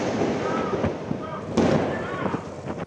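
Apache attack helicopter chain gun and 2.75-inch rockets fire during a daytime military exercise, heard as a dense crackle of distant bursts and booms with a sharp blast midway, under a narrator's voice.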